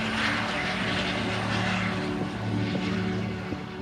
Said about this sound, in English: We're going on a helicopter flight above Hamburg.